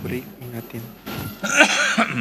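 One person coughs several times in short, close bursts and clears his throat, with speech mixed in during an indoor talk.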